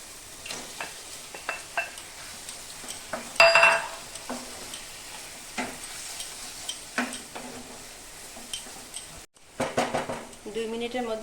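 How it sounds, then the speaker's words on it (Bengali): Chicken pieces go into fried spice masala in a pan and are stirred, with scattered scraping clinks of a utensil against metal over a soft sizzle, then a louder burst of frying near the end. "আমি এখন চিকেনটা দিয়ে দিব।"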